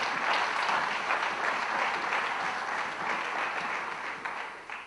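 Sustained applause from an audience at a French-language sermon or church gathering, a dense, even wash of clapping that holds steady at full strength for the whole stretch with no voices over it.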